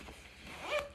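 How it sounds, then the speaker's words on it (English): A Hill People Gear Mountain Serape has its zipper pulled closed, one quick, close rasping zip that rises and peaks near the end of a short moment. "if you zip that same area up, just like I have"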